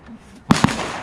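Two sharp cracks of gunfire at an outdoor shooting range, close and loud, following each other in quick succession and then trailing into a brief echoing tail.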